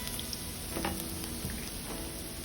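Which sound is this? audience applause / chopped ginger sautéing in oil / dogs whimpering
chopped ginger sautéing in oil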